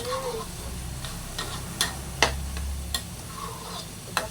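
A spatula scrapes and taps in a pan as rice is stir-fried with Thai chili paste, giving a scattering of sharp clicks over a steady low sizzle and hum.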